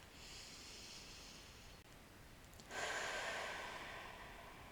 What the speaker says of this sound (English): You just take in one really deep breath.